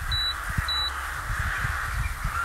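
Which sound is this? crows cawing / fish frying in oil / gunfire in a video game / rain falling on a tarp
crows cawing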